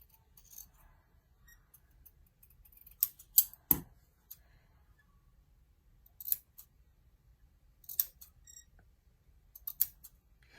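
Scissors trim fabric for a Halloween spool ornament in a quiet room, making scattered close, crisp snips and clicks in small bursts with short pauses between them.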